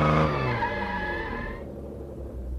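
A car brakes hard and its tyres skid with a loud, sustained screech that fades after about a second and a half, leaving a low engine rumble.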